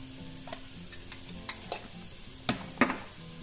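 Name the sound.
stirring and mixing the stuffing seasoning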